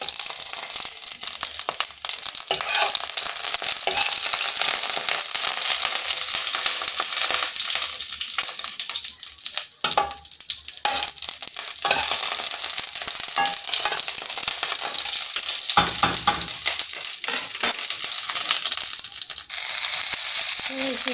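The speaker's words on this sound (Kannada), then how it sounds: "ಈರುಳ್ಳಿನ ಹಾಕ್ಕೊಂಡಿದ್ದೀನಿ, ಚೆನ್ನಾಗಿ ಫ್ರೈ ಮಾಡ್ಕೊಳ್ಳೋಣ." Onions frying in a pan to golden, giving a loud, dense sizzle that runs throughout, with occasional scrapes and knocks from stirring and brief dips in intensity.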